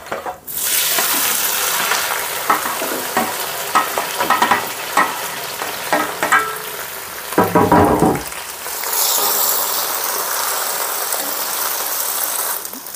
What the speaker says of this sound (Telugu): స్టవ్ని హై ఫ్లేమ్లోనే పెట్టుకొని బెండకాయ ఫ్రై చేసుకుందాం